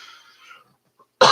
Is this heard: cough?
yes